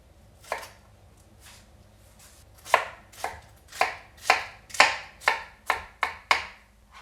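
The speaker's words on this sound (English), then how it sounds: "for the lettuce, I just simply cut it into about 1/2 inch thick strips" A knife chops lettuce into half-inch strips on a cutting board for Japanese cold ramen: a few sparse cuts, then a steady run of sharp, close, evenly spaced chops.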